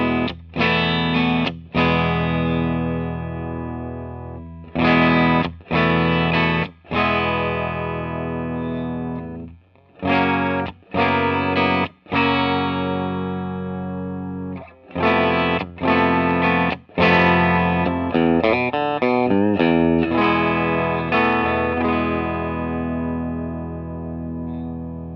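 Electric guitar run through a J Rockett Archer Clean boost pedal, loud chords and riffs ringing out with some echo, played in separate phrases with short pauses between them.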